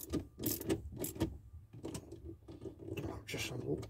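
Bolts are tightened on a steering wheel in a Mk2 Golf, giving close, uneven bursts of metallic ratcheting clicks and clunks with short gaps between turns.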